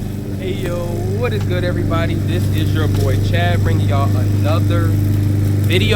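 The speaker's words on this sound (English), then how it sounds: "Sorry about the lawnmower sounds." A lawn mower runs steadily outdoors while leaves are being cleared, a constant loud engine drone under someone talking throughout.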